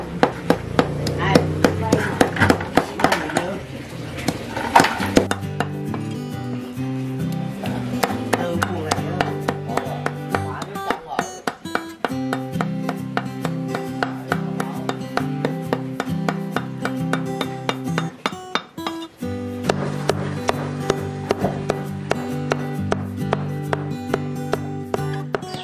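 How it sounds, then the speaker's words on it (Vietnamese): A knife chops frogs into filling for highland ethnic chả chão chuộc wrapped in lá lốt leaves, with rapid, steady repeated strikes on a board under background music for about twenty-five seconds. "sẽ băm những con ếch ra để làm nhân"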